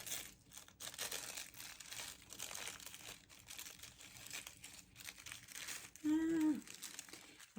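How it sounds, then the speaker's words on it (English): Soft paper crinkling and tearing sounds come in faint bursts, close by and quiet, with a short tonal squeak near the end. "This is always the danger when you're doing hand tearing of tissue paper."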